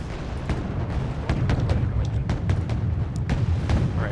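Nanuchka missile ships launch salvos at enemy vessels in the naval battle game Wargame Red Dragon, a steady rumble of overlapping booms and sharp bursts rolling continuously through the whole stretch.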